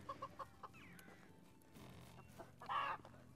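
Chickens cluck in a medieval village-building game: a few soft, short clucks early on, then a louder burst of squawking near the end over quiet ambience.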